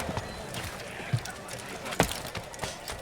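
Horse hooves clopping in Assassin's Creed, a few scattered muffled thuds under ambient game sound, with a voice talking nearby.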